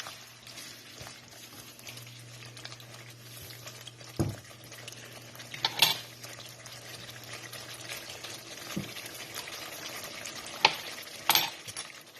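Masala chicken curry sauce simmers in a pot with a soft continuous bubbling sizzle, broken by a few sharp clinks and scrapes of a utensil stirring.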